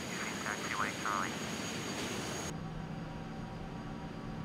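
A jet airliner taxis to the gate in Microsoft Flight Simulator X, producing a steady whining engine drone with an unbroken hum, while radio-style chatter is briefly heard.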